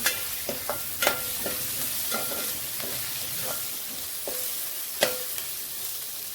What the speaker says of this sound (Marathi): टॅमॅटो पण चांगला परतून घ्यायचा